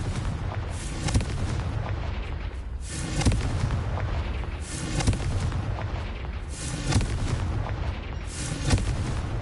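Confringo fire spell blasts in the video game Hogwarts Legacy: heavy booming explosions recurring about every two seconds over a dense, loud rumbling background.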